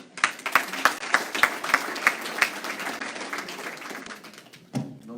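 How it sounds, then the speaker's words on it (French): Audience applause at a clairvoyance conference at the Salon Parallèle: a burst of clapping with a few sharp, distinct claps at the start, then a steady dense patter that thins toward the end, fairly close. "On applaudit."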